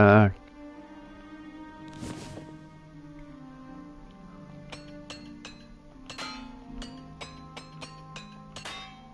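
Armour being repaired with repair hammers in Oblivion Remastered, a series of bright metallic clinks and taps, scattered at first and then quickening into a rapid run of strikes, with a faint ringing hum beneath.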